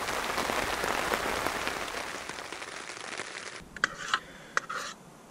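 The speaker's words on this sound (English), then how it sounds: "The noise of that rain did keep me awake quite a bit." Heavy rain drums on a tent at a wild camp overnight: a dense, steady hiss that suddenly drops to a quieter patter, punctuated by a few sharp, close taps of drops hitting the fabric.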